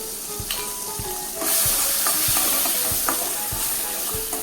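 Chopped onion with asafoetida and ginger-garlic paste sizzling in hot oil for panipuri ragda masala, a steady bright crackle broken by regular stirring clinks of a spoon against the pan.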